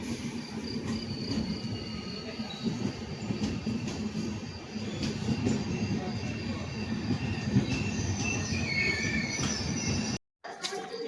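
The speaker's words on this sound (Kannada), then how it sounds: "ಪ್ರಶಾಂತಿ ಎಕ್ಸ್ಪ್ರೆಸ್ ಬಂತು ನೋಡಿ" The Prashanti Express arrives hauled by a WAP-7 electric locomotive, number 3778 from Vijayawada. A steady rolling rumble of wagons is laced with wheel squeal, crickets sound faintly behind it, and there is a brief cut near the end.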